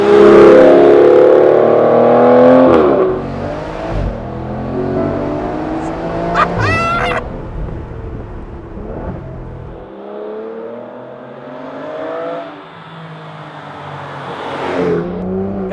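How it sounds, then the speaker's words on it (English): An old-school naturally aspirated V12 in an Aston Martin Vanquish Volante revs hard and loud, rising and falling in pitch. A sharp whine cuts in midway, then a lower steady drone carries on to the end. "driving this old school V12 engine"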